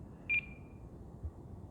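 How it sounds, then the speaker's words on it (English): An RC radio transmitter for a Top RC Lightning V2 1.5 m sailplane gives a single short, clear electronic beep during setup, then a faint low background hum with no talk. "Don't worry about the beeping, that's normal."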